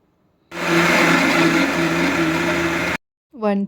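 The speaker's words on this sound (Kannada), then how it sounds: "ಇವಾಗ ಸ್ವಲ್ಪ ಮಿಕ್ಸಿ ಮಾಡ್ಕೊತೀನಿ" A mixer grinder grinds sambar ingredients with a little water, whirring loudly at a steady high pitch for about two and a half seconds, stops abruptly, then a voice speaks briefly.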